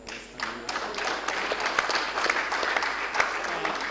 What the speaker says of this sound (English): Please clap for health workforce.